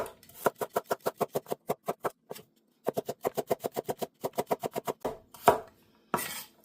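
A knife chopping a vegetable into thin medallions for a stir-fry, a rapid, even run of crisp taps on a cutting board, pausing briefly and resuming, with a few heavier scrapes at the end.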